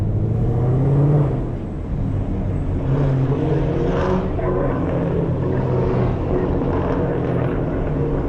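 Loud Chevrolet Camaro muscle car with a Catalyst exhaust, its engine roaring steadily and close for the whole stretch, a broad continuous drone with slight swells.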